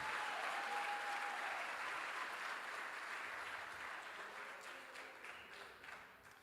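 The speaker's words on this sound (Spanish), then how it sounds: "Come on, iglesia, dale un aplauso al Señor." A church congregation applauding during a sermon at a convention, steady dense clapping from a large crowd that slowly fades, with no speech over it.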